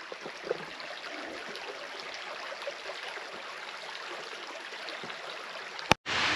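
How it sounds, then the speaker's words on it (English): Steady, close rush of a creek along a hiking trail in pine hills near Dalat, Vietnam, a continuous broadband wash of flowing water with no voices. "It's a beautiful creek."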